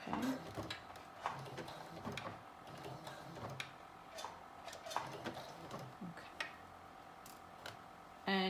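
A sewing machine runs a narrow zigzag stretch stitch around a knit dress while the fabric is pulled taut. It makes a faint, steady ticking rhythm with soft mechanical clicks, low in the room and without talk.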